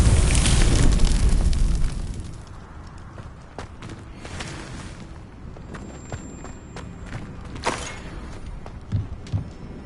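Confringo and Incendio fire spells cast in the Hogwarts Legacy video game: a loud explosive burst at the start fades into quieter crackling, with scattered sharp impacts and footstep-like shuffles afterward.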